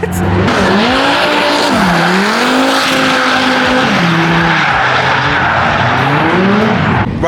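Formula Drift cars scream by on the Long Beach street course, continuous loud engine wail sweeping up and down in pitch with tire squeal and skidding, close to the listener and alone without talk.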